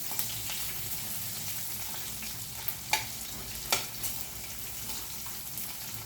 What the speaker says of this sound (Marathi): कांदा परतून घ्यायचा